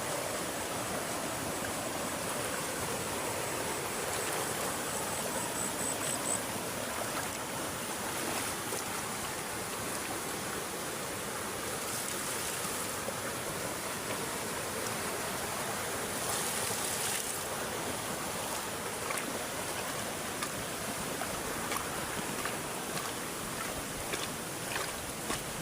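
Rushing water at Ton Tat waterfall on a mountain hike, a steady broadband roar that holds constant and close throughout, with no voices.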